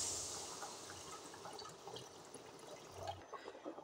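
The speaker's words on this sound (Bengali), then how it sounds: "এবার আমি ঝোলটা দিয়ে দিচ্ছি।" Broth poured into a pan of sautéed potato curry: a faint, continuous watery rush and trickle, quiet and steady, with no speech.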